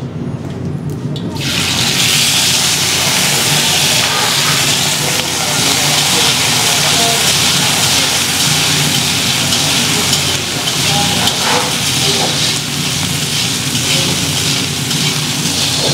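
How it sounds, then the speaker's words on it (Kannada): Jamun fruit frying in hot oil with dried chillies gives off a loud, steady sizzle and hiss that runs unbroken, close up, with no talking. "2 ರಿಂದ 3 ನಿಮಿಷ ಇದನ್ನು ಹೀಗೆ ಫ್ರೈ ಮಾಡ್ಕೋಬೇಕು"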